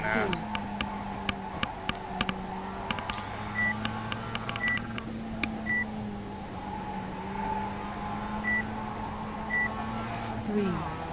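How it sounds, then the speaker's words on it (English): Repeated short electronic beeps from a shift-point indicator in iRacing, driving a Mazda MX-5 at Summit Point, ticking in irregular clusters over a steady engine drone that rises and holds as the car runs flat out. "Sorry for all the beeping."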